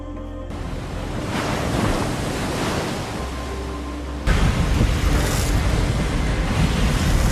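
Ocean waves crashing on the Normandy beach in France in a war film scene, a loud continuous roar of surf and wind that grows stronger halfway through.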